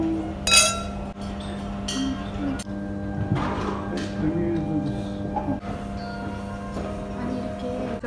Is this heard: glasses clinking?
yes